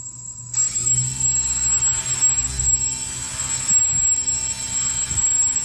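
Electric motor spinning up after voltage is applied, a steady loud whine with a high tonal line and low hum that rises at onset and then holds at a constant level.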